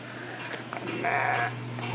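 At a Swami Samarth math on Yeoor Hill in Thane, a cow gives a short, moderately loud lowing call in the middle, set against steady outdoor background hum with no talking.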